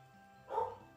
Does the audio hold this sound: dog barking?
yes